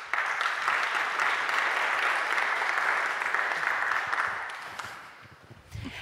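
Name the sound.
audience applause for the panel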